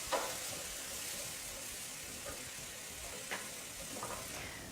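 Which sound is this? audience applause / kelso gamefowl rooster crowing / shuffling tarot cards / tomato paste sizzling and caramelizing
tomato paste sizzling and caramelizing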